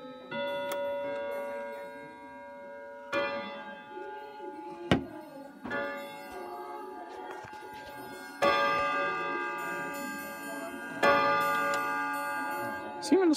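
An Emperor grandfather clock ticks steadily up close while its hammers strike ringing chimes at intervals, about five clear strikes, each decaying slowly under the continuing ticks.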